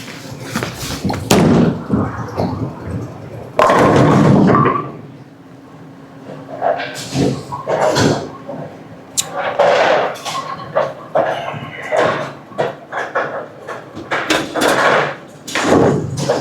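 A Motive Blue Tank microcell polymer bowling ball is thrown down a lane, producing several heavy thumps and a sustained rolling rumble, with sharp clattering bursts spread through the sequence.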